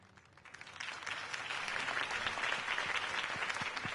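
Crowd applause at a political campaign speech in a Batman video game, a dense steady clapping that builds over the first second and carries on loud and unbroken throughout.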